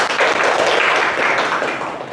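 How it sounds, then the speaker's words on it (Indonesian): Applause from a group, likely a classroom, a dense, even patter of clapping hands that holds steady for about two seconds and thins slightly toward the end. "Tepuk tangan."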